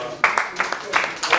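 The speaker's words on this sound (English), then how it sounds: "A round of applause for." Scattered audience clapping at a symposium on restructuring in Kaduna: a handful of sharp, separate claps in an indoor hall, sparse and uneven, with voices nearby.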